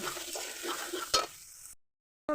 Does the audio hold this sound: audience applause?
no